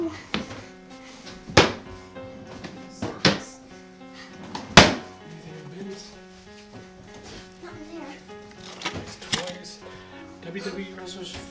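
Drawers and cupboards bang open and shut in the horror game Granny, a few sharp wooden thunks spaced a couple of seconds apart and loud against quieter game sound, with some voices in between.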